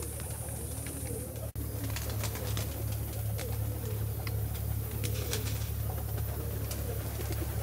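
Pigeons coo steadily while feeding outdoors in hot weather. Their soft, layered calls sit amid constant bird chatter, with parrots also nearby and a continuous background hum.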